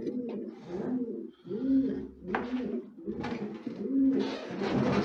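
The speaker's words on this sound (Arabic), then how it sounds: "هاي الحمام جبتها للمزاد" Kash pigeons brought for an auction coo close by in a steady series of soft, throaty, rolling calls that repeat without a break.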